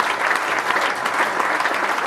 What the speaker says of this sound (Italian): un applauso a Roberto Brandolin.